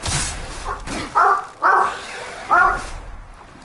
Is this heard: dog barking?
yes